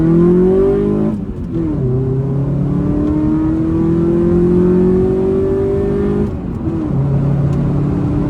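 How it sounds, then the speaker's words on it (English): A car pulls hard from low speed on a test drive after an install, engine note climbing steadily with a brief dip at a gear change, then rising again loud and close, with another shift near the end. "we're gonna go ahead and take it for a little test drive and see if it made any difference"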